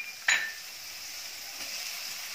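Green onion and capsicum sizzling as they hit a hot pan after garlic and ginger, stir-fried over medium heat for crispy gobi manchurian; a sharp metallic clink opens a steady, close hiss of frying.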